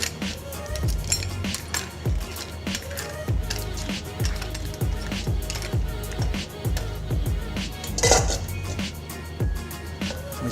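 Mussels stirred with picked basil in a pan give a steady run of clinks, shell clatter and scraping at moderate loudness, with one sharper knock near the end.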